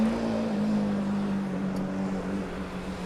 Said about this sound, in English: the Munich car, meanwhile, sounding a lot louder and looking quite a bit faster as well